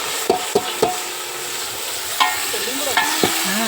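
A ladle stirs and scrapes food frying in a large pot over a steady sizzle, with several sharp metallic knocks spaced irregularly and some faint background murmur.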